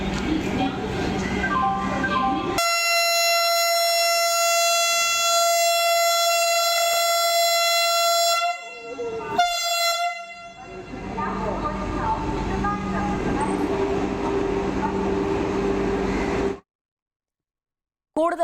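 The Vande Bharat express between Nellai and Chennai sounds a long, loud, sustained horn, then rushes past with a heavy roar of running wheels before cutting off abruptly.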